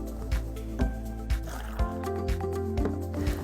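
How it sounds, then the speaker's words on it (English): Tomatoes are rinsed under tap water, with soft splashing and wet squishing and a run of rhythmic dull thumps as the fruit is handled. The sound is close and moderate. "here we're going to use some tap water and rinse these tomatoes"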